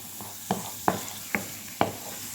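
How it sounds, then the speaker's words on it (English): Onions browning in butter and cooking oil give a soft, continuous sizzle, broken by four sharp stirring scrapes at regular intervals, close up. "So we're going to brown our onions."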